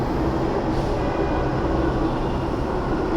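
A metro train pulls into a station, heard through an action camera. The rumble is loud and constant, with a deep roar and a faint high whine, and no one speaks.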